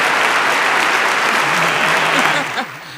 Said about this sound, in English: Clap for him, oh.